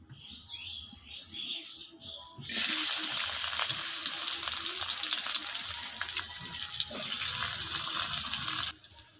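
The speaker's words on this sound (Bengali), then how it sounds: "তো এই যে আমার মাছগুলো ভাজা হয়ে গেছে, একটু কড়া করে ভেজে নিয়েছি" Fish sizzling hard in hot oil in a home kitchen pan, a bright, steady crackling hiss that starts abruptly and runs loud and close for several seconds before cutting off.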